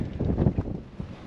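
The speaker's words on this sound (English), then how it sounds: "God, it's so windy." Strong Sahara desert wind in Morocco buffets the microphone in rumbling, low gusts, close and loud, with no voices.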